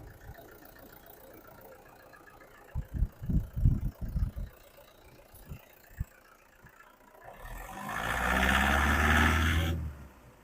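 A 2012 Toyota Innova 2.5G diesel engine idles quietly with the bonnet open, a low steady rumble swelling louder near the end after a few soft knocks and thumps.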